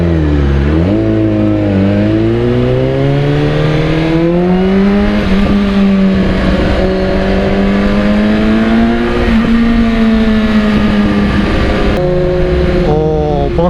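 A car accelerates hard, its engine revving loudly and rising steadily in pitch through the gears, close and sustained throughout.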